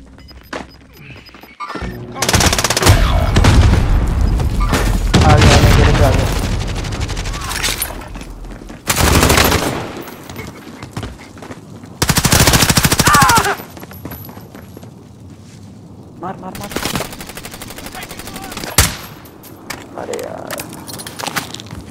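Gunfire in the video game Call of Duty: Modern Warfare battle royale, loud bursts of automatic fire in several separate volleys with thuds and clanks between them, under excited voices talking.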